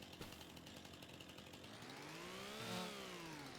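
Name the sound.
chainsaw cutting trees in video game Farming Simulator 25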